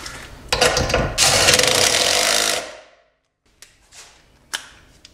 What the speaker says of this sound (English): We're gonna tighten this up with my 20 volt impact driver